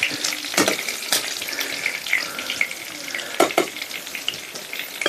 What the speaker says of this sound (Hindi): तो देखिए दोस्तों, मस्त फ्राई हो रहे हैं हम लोग का मछली।